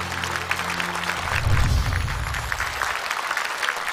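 A television studio audience at a gala honoring the 1994 Romance of the Three Kingdoms cast breaks into loud, sustained applause: dense clapping throughout, swelling midway over low music.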